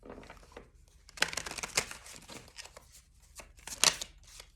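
A deck of tarot cards is shuffled up close in quiet bursts of riffling and rustling, louder flurries separated by softer handling, with no talking.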